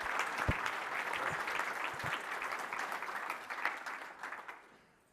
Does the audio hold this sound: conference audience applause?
yes